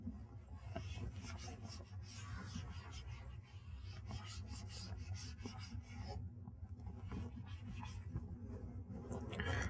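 Chalk or a marker rubs and scratches across a lecture board in a steady stream of faint, close strokes, with no talking.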